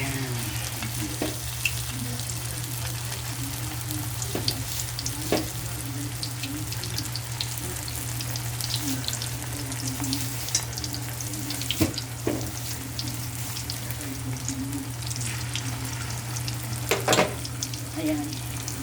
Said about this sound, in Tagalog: Eto guys, magpiprito tayo ng lumpiang Shanghai.